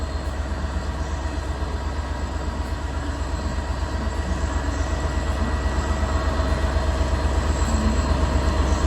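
A class 231 diesel multiple unit pulls out of Cardiff Central bound for Caerphilly, a steady low engine rumble and rolling rail noise that slowly swells in loudness throughout, with no talk.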